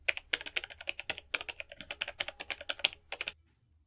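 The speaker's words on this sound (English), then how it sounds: "go to your search bar or to your search icon, click it and type" Rapid keystrokes on a computer keyboard as a search term is entered, a close, steady run of crisp clicks in uneven bursts for about three seconds before stopping.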